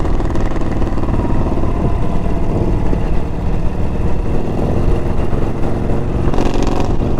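A 2022 Harley-Davidson Low Rider ST with the 117 engine being ridden, its loud, steady engine drone and wind rush continuous throughout, with a brief rise in revs near the end.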